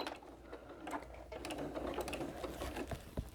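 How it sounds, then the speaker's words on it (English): A sewing machine stitches fabric for a mitered corner, starting with a quick back stitch; a soft, fairly quiet mechanical whir with faint clicks and ticks runs steadily for a few seconds. "we're going to go ahead and start stitching, and I'm actually going to do a quick back stitch"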